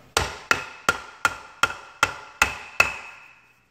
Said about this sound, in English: knocked it out with a hammer